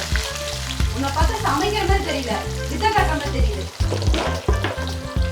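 Onions and chilies sizzle and fry steadily in a pan, with occasional stirring scrapes over a constant crackling hiss, a voice murmuring faintly in the background.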